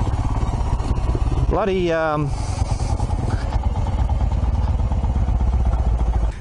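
A 2018 Royal Enfield Himalayan motorcycle engine runs nearby with a steady low thump, briefly revving up and down in a rising and falling sweep, while someone talks over it.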